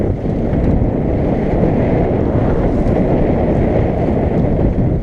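Strong nor'easter wind roars steadily across a sailboat's microphone off an island's east end, a loud continuous buffeting rumble with water wash beneath and no let-up.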